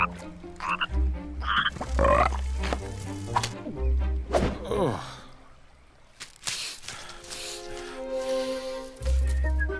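A cartoon frog croaks several times in a children's broomstick story, with loud, wet, burbling croaks mixed with music and comic sound effects.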